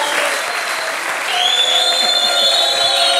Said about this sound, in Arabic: تصفيق اخرى